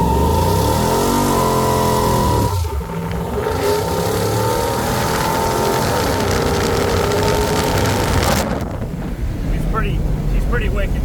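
A truck's engine drones loudly from inside the cab as it drives, its pitch climbing and falling through revs and gear changes, with wind rush and someone talking over it.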